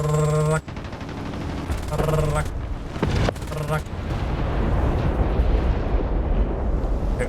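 Aircraft machine gun bursts in the War Thunder game, rapid rattling fire in short volleys over engine drone and a booming blast, with someone talking over it.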